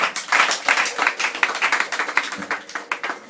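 A church congregation claps for God, a dense burst of quick applause from a crowd of hands, close and lively.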